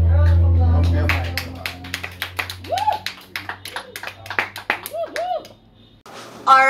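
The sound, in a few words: audience applause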